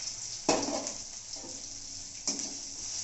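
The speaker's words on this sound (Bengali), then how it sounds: "চালটা একটু ভেজে নিতে হবে।" Washed and drained gobindobhog rice frying over a medium flame in a pan with already-fried tempering spices, giving a soft, steady sizzle with a few louder bursts as grains are stirred, close by and with no talking.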